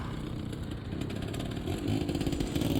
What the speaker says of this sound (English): The motorbike.